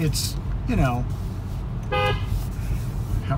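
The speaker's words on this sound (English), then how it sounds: "horn sounds the same" Tesla Model 3 horn: two short honks, the second brighter and clearer, over road and engine rumble inside the car.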